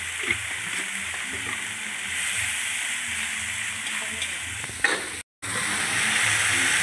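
A spice paste with turmeric powder fries in oil while being stirred, giving a loud continuous sizzle and hiss with stirring scrapes, broken by a very brief silent gap near the end.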